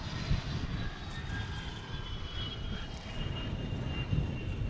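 A plane lands on runway 13 right at Dallas/Fort Worth airport, heard as a steady, fairly distant engine roar with a faint whine, continuous and unbroken throughout with no talking.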